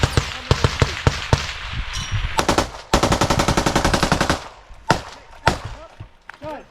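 A machine gun fires in close combat during a Chosen Company assault, in loud, rapid bursts with short gaps and one long sustained stretch. Scattered voices come through between the bursts.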